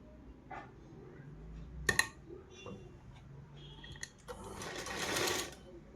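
Sewing machine attaching a pocket to a churidar kurta: scattered clicks and handling knocks give way to a short, close burst of rapid stitching near the end.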